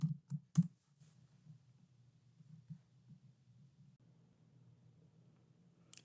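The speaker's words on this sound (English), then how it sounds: "So now let's type USA in there." Typing on a computer keyboard during a spreadsheet formatting task: a few sharp, close key clicks at the start, then faint scattered taps over a low steady hum.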